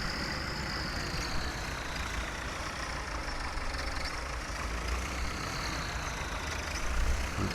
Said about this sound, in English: We'll now bring the sprayer tractor into position and get it filled up.